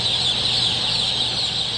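A crowd of young chicks raised in a research coop for an alkaline drinking-water study peeps and clucks continuously, a dense, loud, close chorus with no pauses.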